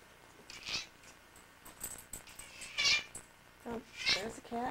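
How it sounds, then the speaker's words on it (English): A cat meows several times in short, rising calls spread through the moment, close by, with a person talking quietly around them in a home setting. "Oh, there's a cat."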